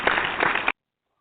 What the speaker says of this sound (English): Please applaud Manny.